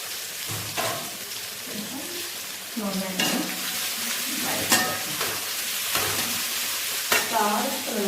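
Masala and sliced onions fry in a little oil for Malabar biryani. They give a close, steady sizzle broken by repeated scraping stirs at uneven intervals.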